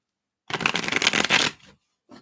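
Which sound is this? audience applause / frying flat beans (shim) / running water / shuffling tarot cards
shuffling tarot cards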